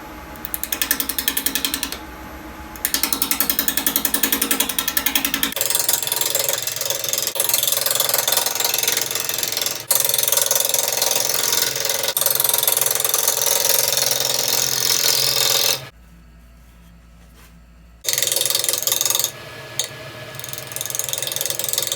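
A wood lathe turns a wild, diseased chokecherry bowl at about 600 RPM, giving a loud, continuous rattling, clattering cut that drops out briefly near the end and then resumes.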